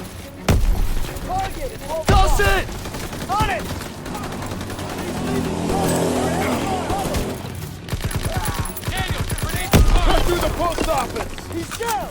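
Rapid gunfire and booming grenade explosions from the World War II shooter game Call of Duty: WW2, loud bursts and volleys spread throughout, with a player talking over the combat.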